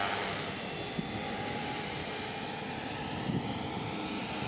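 An electric radio-controlled helicopter flies outdoors, giving off a steady, continuous whirring drone of rotor and motor throughout.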